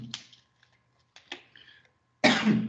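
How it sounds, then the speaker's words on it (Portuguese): A person coughs several times with short pauses between, ending in a louder, harsher burst, close and alone in a quiet room. "Eu estava segurando essa tosse."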